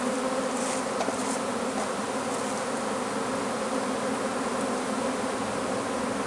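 A honey bee swarm buzzing steadily during a capture, a dense continuous drone of many bees close by, with no speech over it.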